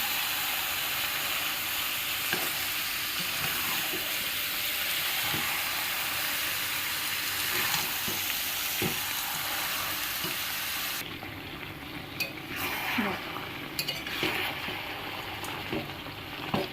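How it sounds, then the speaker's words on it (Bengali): Mutton pieces being stir-fried in a pan while cooking mutton curry, a continuous close sizzle with periodic scraping and stirring clacks; the frying drops in level partway through, then resumes with sharper spatula knocks. "এবার আমি একে একে মাংসটাকে দিয়ে দেবো দেখ আমি এবার পুরোটা দিয়ে দিলাম দিয়ে ভালো করে কষতে থাকবো"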